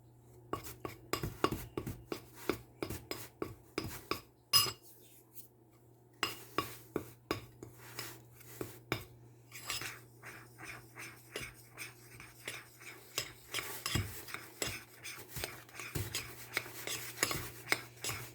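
Utensil scraping and tapping against a bowl while purple colouring is stirred into a homemade bath bomb mixture, a close, irregular run of clinks and rasps with a steady low hum underneath.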